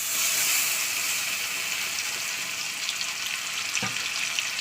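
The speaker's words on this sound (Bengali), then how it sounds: "তেলটা গরম হয়ে গেলে আমি দিয়ে দেবো যে মিক্সচার মেশিনে যে মশলাটা করেছি সেই মশলাটাকে দিয়ে দিচ্ছে" Ground spice paste hitting hot oil in a home kitchen pan, a loud, steady broadband sizzle and hiss that carries on continuously, with one brief knock near the end.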